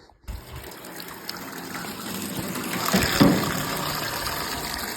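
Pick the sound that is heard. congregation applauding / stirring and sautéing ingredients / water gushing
water gushing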